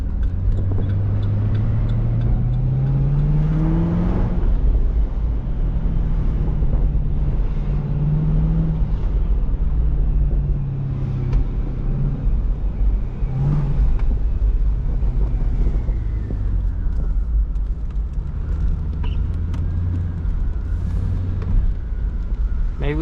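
A Cadillac CTS-V cruising at midday, its loud supercharger whine rising and falling with throttle over a steady road and wind rumble, with occasional talk from the cabin.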